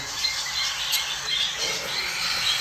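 Pet birds in a breeding aviary, including heavy-pied and white-face pearl breeds, give scattered squawks and chirps over a steady background hiss, fairly close, with no voices.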